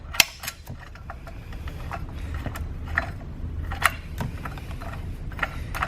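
A bolt on a Kuat Sherpa 2.0 platform hitch bike rack is tightened with the supplied tool, giving irregular close metallic clicks and ratcheting ticks over several seconds against a low steady background hum.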